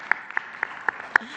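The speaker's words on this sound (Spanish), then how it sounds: "Un aplauso." A few slow, sparse claps ring out in a row at a press conference in Mexico, about six separate hand claps at an even pace, fairly faint and spaced apart.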